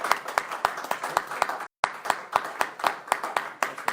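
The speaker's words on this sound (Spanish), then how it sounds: "Un aplauso, por favor," Rhythmic unison clapping from an audience welcoming a lecturer, steady beats about four per second with a short gap partway through, fairly close and loud.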